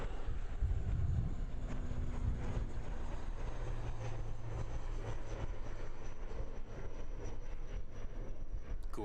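A propeller aircraft drones past at Christchurch Airport, a broad, rumbling engine roar mixed with wind buffeting the microphone, fairly distant and sustained with no talk.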